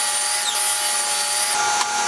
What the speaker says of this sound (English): Next I cut some pieces of 1x3 to make the upper arms.